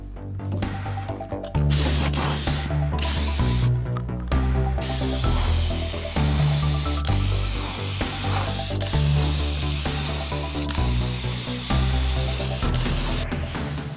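A paint spray gun hisses steadily while coating a Range Rover V8 body, with loud continuous spraying broken by a few brief pauses where the trigger is released, close up and without talking.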